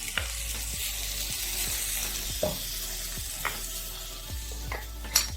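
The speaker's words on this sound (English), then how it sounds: "We add the eggplants to the pan." Eggplant and tomatoes sizzle steadily in a hot pan, a constant frying hiss with occasional soft clicks and stirring taps of a utensil against the pan, close and alone without any talking.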